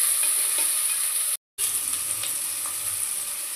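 Onions sizzle steadily while frying in a pan for chicken fry, a loud continuous hiss broken by a brief silent gap midway, with no talking.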